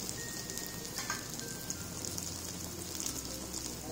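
Beetroot cutlets shallow-frying in oil give a faint, steady sizzle with light crackles, heard close but quietly and without speech.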